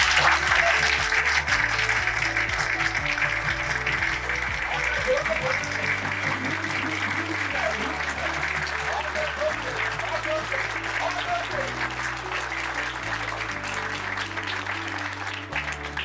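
Audience applause at a training session in Lonavala: sustained, dense clapping fills the whole stretch at an even, steady level, with low musical tones running underneath.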